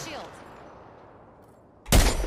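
Gunfire in the video game Apex Legends erupts as a sudden loud burst of shots near the end, after a quieter stretch of low game ambience.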